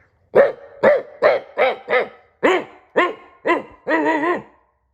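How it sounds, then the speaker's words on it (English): Two large dogs bark loudly and close, about nine deep, evenly spaced woofs, the last one drawn out into a longer bay. "Two large dogs leapt out barking."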